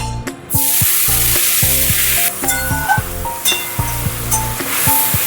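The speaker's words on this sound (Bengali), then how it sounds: "মশলাটা যাতে না পুড়ে যায় সেজন্য অল্প একটু জল দিয়ে দেবো" Water is poured into ground spices frying in a pan, setting off a sudden loud, steady sizzling hiss that carries on with a few faint clinks over a low background hum.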